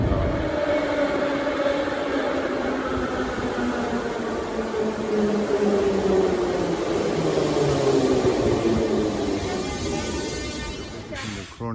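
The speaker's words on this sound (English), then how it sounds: "So right now we are taking the metro to go to the Chronicle of Georgia." Aboard a metro train in Georgia, a loud, steady rumble of the moving carriage fills the whole stretch, with whining motor tones gliding downward as the train runs and slows.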